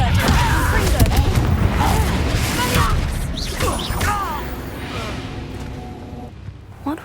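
Confringo fire-spell explosions in the video game Hogwarts Legacy, cast inside a keep: loud booming blasts and crashing impacts follow one another over a busy layer of game noise, with a brief grunting voice mixed in.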